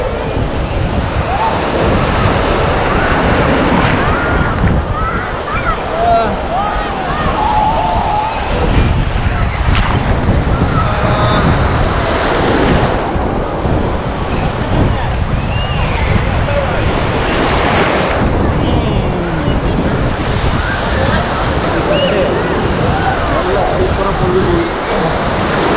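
Ocean waves and wind at Manly Beach in Sydney, surf rolling and breaking steadily with heavy wind buffeting the microphone, loud and continuous, with people talking intermittently over it.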